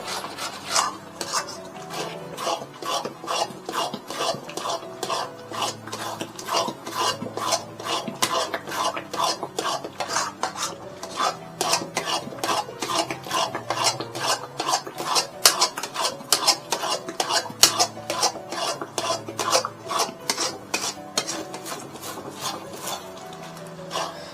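Apple halwa with ghee being stirred in a pan, a steady run of metal spoon scrapes and clinks against the cookware repeating quickly and evenly for the whole stretch, close and moderately loud with no talking.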